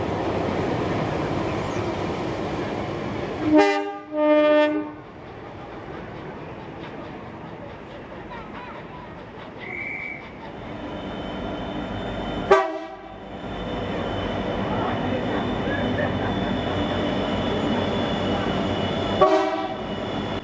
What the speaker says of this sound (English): another empty coal train passes by the historic railway signal box